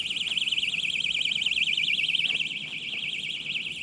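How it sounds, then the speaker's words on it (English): A carp fishing bite alarm sounds a steady, warbling electronic tone, loud and close, that runs unbroken for the whole few seconds with no talking over it. "Slide the line around the clip on the alarm there"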